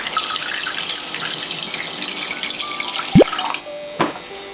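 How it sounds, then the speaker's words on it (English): A steady watery hiss as water is poured into a pot of Thai yellow curry fills the clip, followed by a couple of sharp clanks near the end. "I'm gonna add some water."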